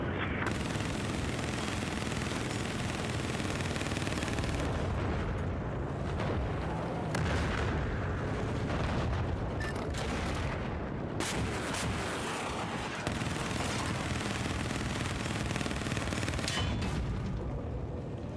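Heavy gunfire and explosive impacts fill a Battlefield-style military shooter battle, with dense, continuous shots, booms and crackling hits landing on the player at close range, loud and sustained throughout with no talk.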